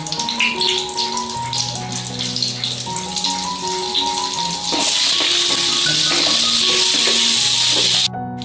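Two spoons of butter with white oil sizzle loudly in a pan while cooking paneer butter masala, a steady bright hiss that starts midway over soft background music and cuts off abruptly near the end.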